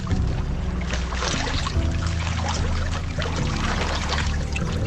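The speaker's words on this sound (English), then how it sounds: "Wading through these freezing pools is the only way forward." Water splashing and sloshing steadily as someone wades through freezing pools in a desert gorge on the Larapinta Trail in the Australian outback, close and continuous throughout with no talk.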